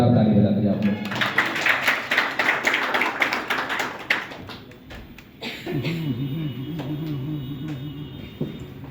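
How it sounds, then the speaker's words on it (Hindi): Audience clapping at a Republic Day school program: dense, fairly loud applause for about four seconds that tapers off, followed by someone speaking. "तो एक बार जोरदार ताली बजा दीजिए आप लोग।"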